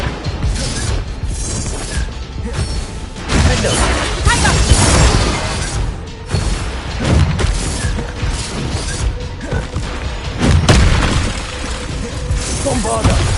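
A Bombarda explosion spell in the game Hogwarts Legacy, with loud, repeated crashing bursts, shattering debris and mechanical clatter over about thirteen seconds, and occasional voices mixed in.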